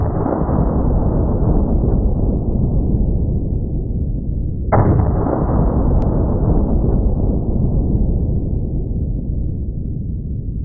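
A .308 rifle fitted with a rosewood muzzle brake fires a single loud, close shot partway through. A long rolling echo follows it, and the decaying tail of an earlier blast fills the opening seconds.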